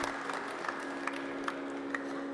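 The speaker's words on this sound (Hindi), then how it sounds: "पूरा जोरदार ताली बजा दो भाई" An audience claps in a faint, steady patter of applause at a yoga session, with a constant hum underneath and a few sharper claps standing out.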